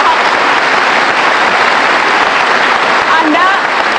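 Studio audience applauding for Ahok on the Indonesian talk show Mata Najwa, a loud, sustained wash of clapping that fills the whole stretch evenly.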